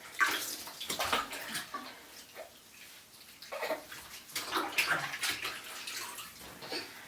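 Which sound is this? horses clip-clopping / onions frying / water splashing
water splashing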